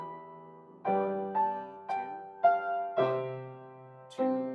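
A piano plays a harmonized melody with both hands together, with about six struck chords at a moderate, steady pace, each ringing and decaying before the next, clear and close with no talking.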